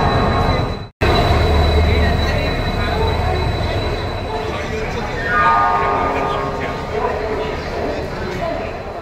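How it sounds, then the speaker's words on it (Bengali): A train rolls into a railway station platform at night with a loud, continuous rumble and rising wheel squeal. There is a brief dropout near the start, and no clear talk is heard. "11:35 ট্রেন আধ ঘন্টা লেট করে 12টার সময় ঢুকছে।"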